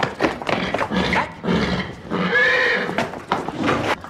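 A competition horse neighs loudly and close by, a long whinny alone with no voices over it.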